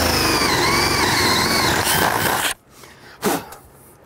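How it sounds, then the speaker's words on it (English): A power drill whines steadily at high speed while drilling a hole in a wall for wiring carriage lights, its pitch wavering, then cuts off abruptly, followed by a short burst and quiet. "Step three, drill the hole."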